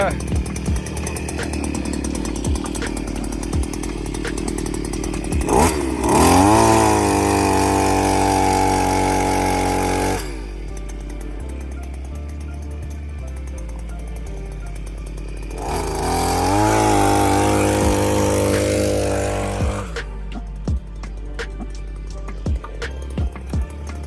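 Farm engine cranked with its self-starter then running, a loud chainsaw-like roar that surges and steadies, drops back to a rough idle and revs up again before cutting off; voices are heard in the background.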